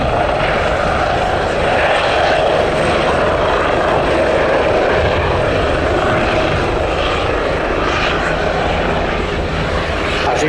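Bundeswehr H145M military helicopters fly overhead during a special forces demonstration, a loud continuous rotor and turbine roar that holds steady throughout with no pauses.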